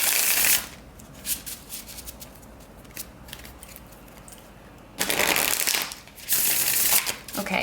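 A deck of tarot cards is shuffled during a pick-a-card reading, with two long riffling bursts near and loud at the start and again toward the end, and quieter card handling in between.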